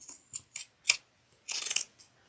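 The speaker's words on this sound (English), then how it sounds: "So I'm going to trim it to about 1/4 of an inch. I'm using pinking shears." Pinking shears trimming a fabric seam allowance on a sewn pouch, giving a series of short, close, crisp snips in an uneven rhythm, with a longer crunching cut near the end and no talking.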